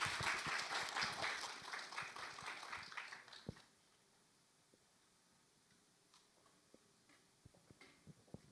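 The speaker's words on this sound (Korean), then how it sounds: "Please giving her a big round of applause." Audience applause at an international accelerator-based symposium, dense clapping for about three seconds that quickly dies away, leaving a quiet hall with a few scattered taps and clicks.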